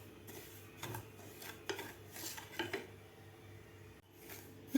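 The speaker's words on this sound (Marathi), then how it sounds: "आता 2 मिनटं आपल्याला रवा भाजून घ्यायचा आहे तूप न घालताच." Coarse semolina dry-roasted in a pan without ghee, soft scraping and stirring of a spoon against the pan with light metallic clinks, faint and close, no talking.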